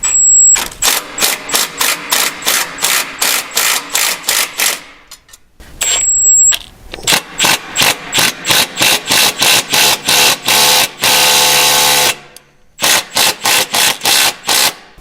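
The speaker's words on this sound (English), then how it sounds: "So I'm gonna get an impact and we'll start running these in." An impact wrench drives self-threading bolts into the inner fender liner brackets of a Jeep Gladiator, making loud, close bursts of rapid hammering that repeat in runs with short pauses between them.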